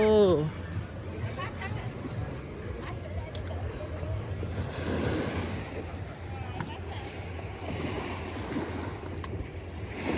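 Surf from the rising tide rolls onto Desaru beach at night, a steady washing roar with wind buffeting the microphone and people chatting nearby.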